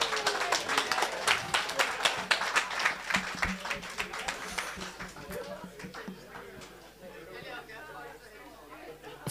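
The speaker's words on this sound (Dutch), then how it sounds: "Applaus! Applaus." Audience applause and clapping for the winning team at a year-end quiz evening, loud and dense at first with scattered chatter and chuckles, then thinning into softer crowd murmur toward the end.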